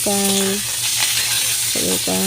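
Pieces of food sizzle in a hot pan while being cooked for a hotdog and squash meal, a dense steady crackle with tonal beeping tones cutting in near the start and end.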